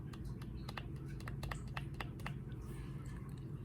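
Rapid, irregular keystrokes on a quiet LANGTU membrane gaming keyboard with LED backlighting, close and soft, over a steady low background hum with no talking.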